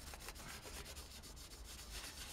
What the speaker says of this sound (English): carefully I'll rub that with IPA